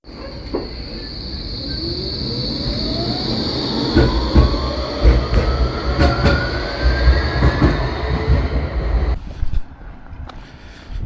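A tram rumbles along rails close by, wheels clacking and a rising whine building as it moves, then the noise drops away abruptly.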